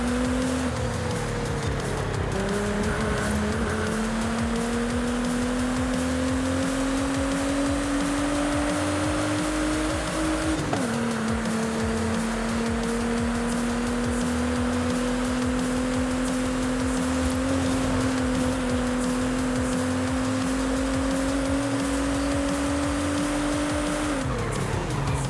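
A car in Forza Horizon 5 drives continuously with a sustained engine drone, its pitch climbing through gears with a couple of shift drops, loud and close, alone without talking.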